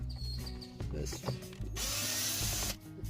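Screws are removed from the air filter cover of a 2009–2018 Volkswagen with a ratcheting power tool, giving short close whirring bursts followed by a longer steady buzzing run, with clicks and handling noise between them.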